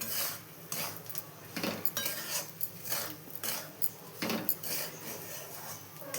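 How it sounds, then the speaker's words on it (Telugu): A spoon scrapes and stirs sugar into a rava laddu mixture in a metal pan, giving repeated rhythmic rasping strokes, close and fairly quiet, with no talking. "షుగర్ని యాడ్ చేస్తున్నాను. దీన్ని బాగా ఈ విధంగా మిక్స్ చేసుకోవాలి, బాగా కలుపుకోవాలి."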